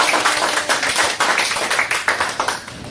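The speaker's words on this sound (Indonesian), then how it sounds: "Beri tepuk tangan untuk kelompok satu." Classroom applause for a student group during a physics lesson on energy, a loud close burst of rapid hand clapping from a small crowd that tapers off after about three seconds.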